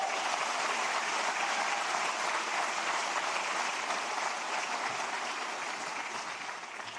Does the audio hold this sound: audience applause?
yes